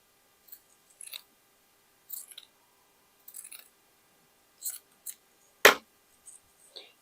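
Scissors snip through the cotton of a man's shirt, several short crisp cuts in an irregular rhythm with brief pauses between them, one sharper, louder snip near the end, close and alone.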